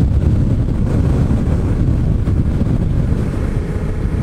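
Steady, loud rumbling wind buffeting the microphone, a constant roar with slight surges and no voices.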